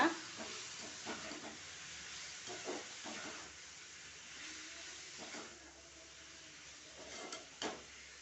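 A soft, steady sizzle and hiss of prawns frying in a pan with chilli powder, with occasional clinks and scrapes of stirring over the low crackle.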